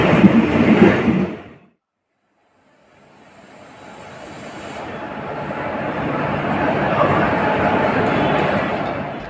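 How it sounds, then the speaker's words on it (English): A Coromandel Express train pulls into Balasore railway station in Odisha, India. A voice is heard briefly, then a short silence, then a broad rumbling roar that builds steadily and holds loud and close. "Here the Coromandel Express has arrived the Balasore railway station."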